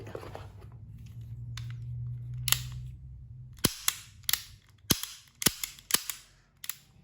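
A WE F226 gas-powered airsoft pistol is test fired: after a low hiss of gas, about seven or eight sharp, snappy shots crack close by in an uneven sequence, with no talk over them.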